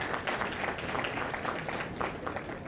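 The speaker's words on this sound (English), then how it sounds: "Let us hear a big round of applause for all of them." Keynote audience giving a big round of applause for elected officials, a continuous, even roar of clapping hands at moderate level throughout, with no one speaking over it.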